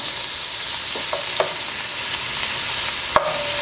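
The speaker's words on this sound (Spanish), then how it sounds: "En la cucharada de mantequilla ponemos a sofreír a fuego alto" Shrimp and mushrooms fry in butter over high heat, a steady loud sizzle with a few light utensil scrapes and taps, one sharper knock near the end, and no talking.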